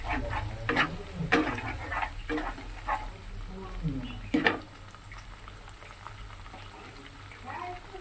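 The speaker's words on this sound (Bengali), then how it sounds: "আমার পেঁয়াজটা বাটা বাটা হয়ে ভাজা ভাজা হয়ে গেছে" Onion paste fries with cumin and ginger paste, producing a soft, bubbling sizzle with several clattering stirs of a spoon in the pan, while a voice talks over it at times.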